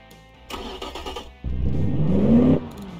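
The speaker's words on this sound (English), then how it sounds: "Sounds like an engine, cool." Car engine in the Automation video game, cranking over in short stuttering bursts, then catching and revving up with a rising, loud close roar that cuts off abruptly, with no talking.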